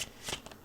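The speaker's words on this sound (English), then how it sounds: "it also stands up to a bunch of riffle shuffles as well" A stripper deck of playing cards is riffle shuffled: a quick, close purring flutter of cards with a short crisp burst in the middle, all over in under a second.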